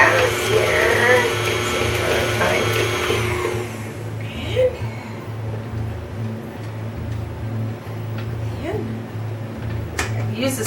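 An electric mixer whirs loudly through ricotta and cream cheese, a steady motor drone that drops in intensity partway through, with a person talking over it.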